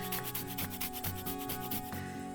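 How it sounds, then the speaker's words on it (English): Fresh ginger scraped across a microplane grater, a quiet, continuous raspy rubbing with quick repeated strokes, close up and alone. "We're gonna grate a bit of ginger."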